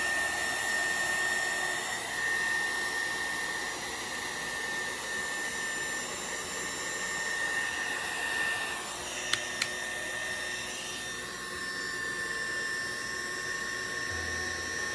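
An air blower hisses steadily over a galaxy tumbler, a loud continuous whine with a high tonal edge. It dips and shifts pitch slightly midway, with two faint clicks, then keeps running, and nobody speaks over it.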